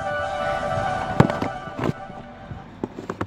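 A firecracker bursts during Diwali with a sharp loud bang near the middle, then smaller pops and thuds follow outdoors, with street noise and people talking around it.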